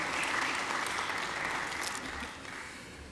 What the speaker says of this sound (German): Das ist wirklich ein Applaus wert.